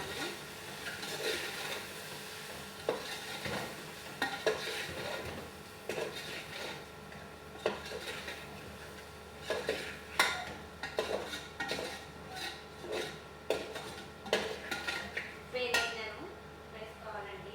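Tomato salsa and tomato paste stirred together in a pot, giving repeated clinks and scrapes of a utensil against the metal, irregular and close, with quieter stretches between bursts.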